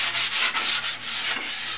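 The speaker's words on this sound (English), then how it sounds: "get yourself a sanding block and just kind of sand it down a little bit" A sanding block rubs back and forth over the wood of a cigar box guitar, giving steady rhythmic scratchy strokes, close and loud with no voices.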